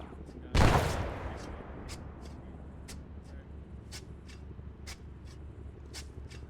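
A grenade explodes in the military game Arma 3 with a single sharp, heavy blast that rumbles and decays over about half a second, followed by sparse distant gunshots and quiet ambient noise.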